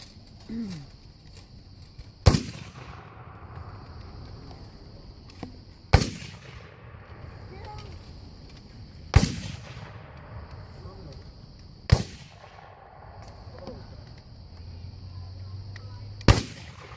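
Separate black powder Civil War rifle shots ring out as sharp, loud cracks about every three to four seconds across an outdoor field. Each blast leaves a short rolling echo, with low murmuring in the background between shots.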